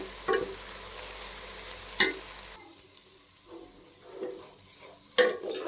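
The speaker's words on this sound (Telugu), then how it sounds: "కూరను మధ్యలో మధ్యలో కలుపుతూ ఉడకబెట్టుకోవాలి" Amaranth leaves with moong dal stirred in a pan over a low flame: a few scattered scrapes and clinks against a soft sizzle, with a sharp clack near the start, another midway and one near the end, with no voices.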